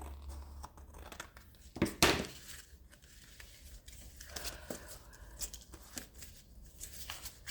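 Scissors snip through paper for a whimsical journal, giving a few close, quiet cuts and crinkles with one sharper snip standing out in an otherwise hushed room.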